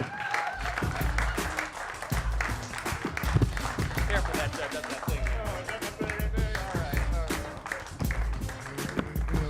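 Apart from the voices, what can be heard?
comedy show audience applause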